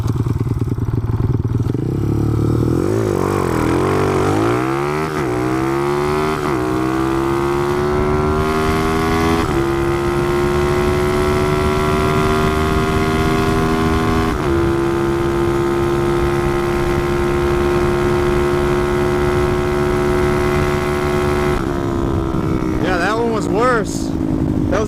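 A Honda CT70 motorcycle accelerates hard on a quarter-mile run, its loud, close engine note climbing repeatedly and dropping at each gear shift, with wind rush throughout.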